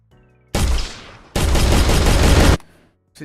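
A shotgun-like weapon in an Unreal Engine first-person game lets off two long, loud, dense bursts of blasts separated by a short gap, close and harsh, with quiet before and after.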